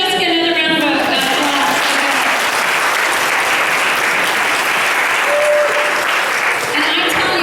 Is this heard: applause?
yes